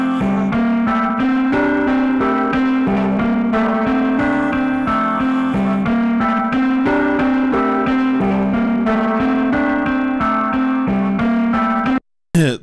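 A music loop roughed up through an external audio effect in Ableton Live with a UAD Apollo interface, playing as a steady, distorted, gritty repeating pattern of notes and beats that runs throughout and cuts off abruptly at the end.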